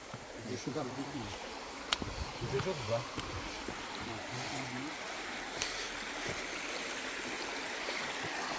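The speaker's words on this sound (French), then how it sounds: "Donc là, c'est la rivière." A river flows with a steady, soft rushing wash that stays even throughout, while people talk faintly over it near the start.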